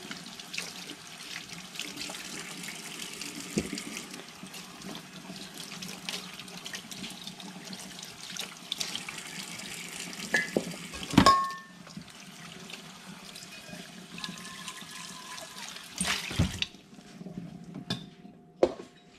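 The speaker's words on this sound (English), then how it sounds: "So now I leave my inflations on this side and I put this whole thing under the water." Tap water runs steadily into a sink while Surge bucket milker parts are rinsed and washed, a continuous close splashing stream with brief clinks of parts and a few louder sloshes near the end.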